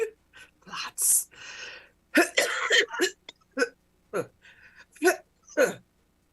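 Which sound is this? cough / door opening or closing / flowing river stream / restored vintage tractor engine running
cough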